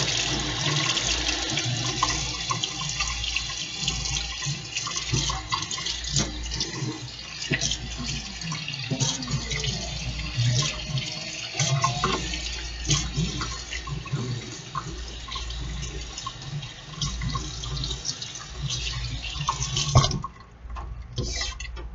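Running water rinses out a rice pot, a steady close rush under the tap for about twenty seconds, with clinks and splashes from the pot being swirled and scrubbed.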